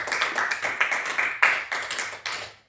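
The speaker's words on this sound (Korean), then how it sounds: "하나님께 영광을 박수 올려드리도록 하겠습니다" A church congregation claps together at the close of worship, a dense burst of applause with rhythmic sharp peaks that fades out over a few seconds.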